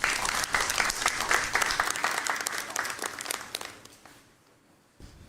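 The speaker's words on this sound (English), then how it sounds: "Mr. Nanabe Brown Addo, with a round of applause, please." A conference audience at a financial inclusion dialogue event applauds, dense clapping that holds steady for several seconds and then tapers off into near quiet.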